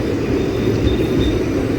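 The 16053 Tirupathi Express rumbles steadily close by at Tiruttani station, a dense, continuous low roar of wheels and carriages with no break.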